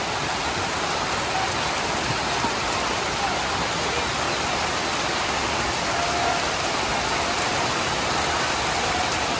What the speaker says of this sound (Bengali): বৃষ্টি এসে প্রচুর বৃষ্টি দেখেন হঠাৎ করে বৃষ্টি চলে এসছে